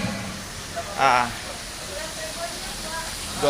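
Sumedang tofu frying in oil at a riverside tofu factory gives a brief burst of sizzling hiss amid a steady background hiss, with people talking nearby.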